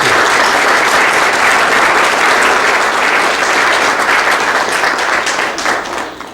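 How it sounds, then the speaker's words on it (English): Loud, dense applause from an audience greeting speaker Mark Davis at a virtual reality talk, a sustained roar of many hands clapping that fades slightly at the end. "let's give a big round of applause for Mr."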